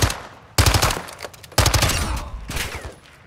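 Loud bursts of automatic gunfire in the Call of Duty DMZ shooter game, two sharp onsets each followed by rapid rattling shots that keep ringing close by.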